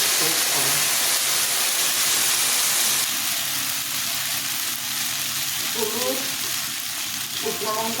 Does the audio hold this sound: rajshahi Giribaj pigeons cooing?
no